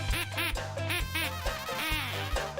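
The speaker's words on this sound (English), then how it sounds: "Use your wacky quacker and quack along with the captain and the music." Toy duck-call quackers honk repeatedly and loudly along with upbeat music aboard a Branson entertainment-district tour, the quacks coming in a steady, uneven stream throughout.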